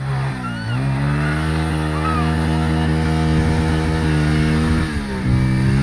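A motorbike ridden off-road through mud, engine droning loudly and close with rising and falling revs throughout, a voice briefly speaking over it.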